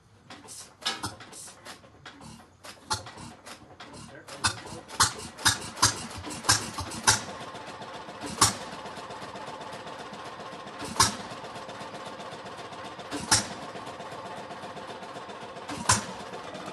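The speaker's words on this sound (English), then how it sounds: "hit and miss engine. I'm going to fire it up for you." An antique hit-and-miss engine runs alone, firing in irregular sharp pops with uneven gaps between them, clustered at first and then spacing out to occasional single bangs over a soft mechanical background.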